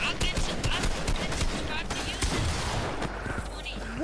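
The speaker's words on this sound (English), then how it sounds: "That guy just shot the guy through a wall." Gunfire in the Fortnite video game comes as dense rapid bursts of shots, loud and close, mixed with excited talking throughout.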